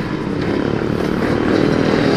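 Motorcycle fitted with an aftermarket exhaust, riding at speed: a loud, continuous engine roar that holds steady and swells slightly toward the end, with no voices.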